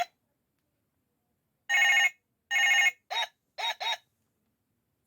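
A toy phone gives a loud electronic bell ring when a button is pressed: two longer ring bursts, then three short chirps, with silence in between.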